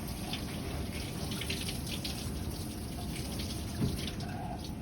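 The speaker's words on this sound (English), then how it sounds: "Turn the water on." Tap water runs steadily into a sink during a surgical hand scrub, a continuous close splashing hiss with a small surge near the end and no voices.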